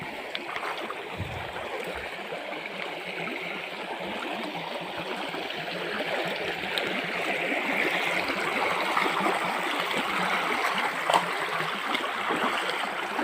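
A shallow mountain stream flows steadily, a continuous bright rushing and trickling wash that grows a little fuller toward the end, heard alone.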